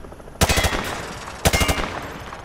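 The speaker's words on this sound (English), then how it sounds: "Grab that weapon off the table and fire at the targets behind you." Rifle fire at range targets in Call of Duty Modern Warfare 2, two short, loud bursts of rapid shots about a second apart, each a quick run of sharp cracks with a brief echoing tail.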